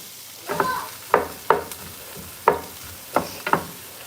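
Mixed vegetables cooking in a pan for shrimp fried rice: a soft background sizzle is broken by about seven sharp spatula scrapes and knocks at irregular intervals, close to the mic.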